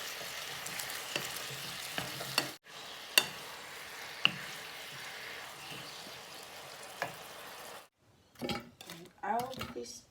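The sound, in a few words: capsicum cooking in Thai fried fish sauce in pan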